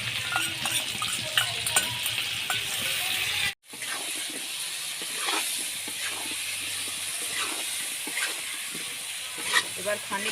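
Turmeric with cumin and green chilli paste fries in a pan for a Bengali fish curry, producing a constant bright sizzle and hiss with scattered spoon scrapes. A brief gap interrupts it near the start before the frying resumes.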